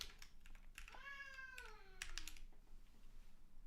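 A cat meows near a computer keyboard, two drawn-out, rising-and-falling meows standing out over steady quiet typing clicks.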